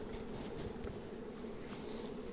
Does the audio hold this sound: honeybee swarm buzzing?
yes